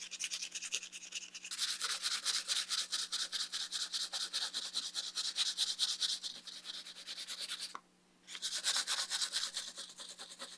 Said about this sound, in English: I am going to give it a little extra character by sanding it just a tad.